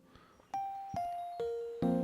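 Chimes from a video game song ring out as four bell-like tones in a descending sequence, each sustained and layered, clear and close with no talk.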